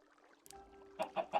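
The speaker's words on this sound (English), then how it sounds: "the chickens fall in, and if you listen closely, you'll hear them dying" Chickens dying in an automatic chicken killer in the Minecraft video game: three short, clucking hurt squawks in quick succession, rising in loudness over a faint steady hum.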